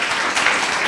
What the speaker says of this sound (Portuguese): Louve a Deus com suas palmas bem forte.